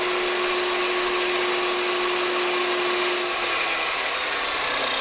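A table saw cuts cedar into thin paneling strips in a Texas Hill Country shop, giving a continuous loud, close whine and roar of blade and motor with no pauses.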